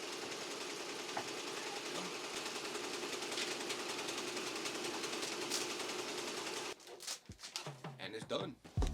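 An embroidery machine stitches a 3D puff design with a steady, fast mechanical whirring that runs evenly for several seconds before cutting to quieter clattering handling sounds.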